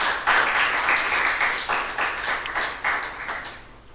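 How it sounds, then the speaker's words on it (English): An audience at a school debate competition applauds both teams, a steady wash of clapping from a moderately distant crowd that gradually tapers off. "We want to start by applauding both teams, the Antigua Grammar School and the Clare Hall Secondary School."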